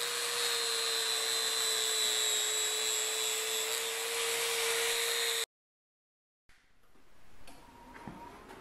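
A power tool polishes a metal spring being made into a spud, giving a steady high-pitched whine that runs for several seconds, then cuts off. Quieter shop noise follows.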